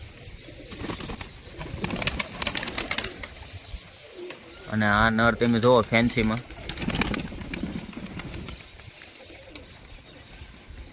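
Pigeons coo in a loft where the birds are bathing one after another in water, a burst of low, rolling cooing rising clearly in the middle amid rustling, with someone talking over it before and after.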